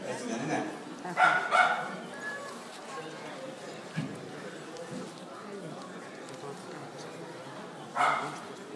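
A dog at a protection demonstration at the Zootechnia 2011 livestock and animal fair gives a few scattered barks, loud bursts over a busy indoor crowd with people talking throughout.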